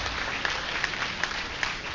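Audience applause at a 1972 university speech at UCLA, a steady wash of many hands clapping at moderate distance with a few sharper individual claps standing out, fairly faint and continuous throughout.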